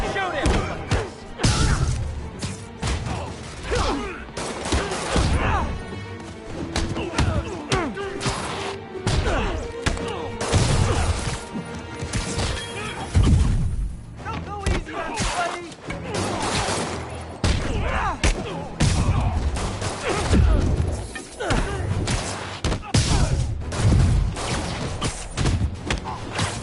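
Repeated bursts of gunfire aimed at Spider-Man in the Marvel's Spider-Man video game mix with heavy thuds, whacks and crashes of close combat, busy and loud throughout, with voices calling out over the fight.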